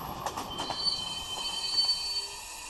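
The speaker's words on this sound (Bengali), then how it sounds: "ট্রেনের ছুকছাক শব্দ" A moving train rolls along as a sound effect in a Bengali detective audio story. A steady rumble of carriages carries thin high wheel squeals and light rhythmic clatter, fairly quiet and with no voices.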